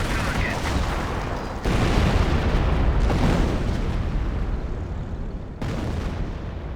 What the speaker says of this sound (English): And a creeping barrage.